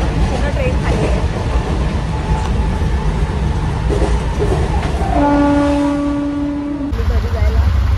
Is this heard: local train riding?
yes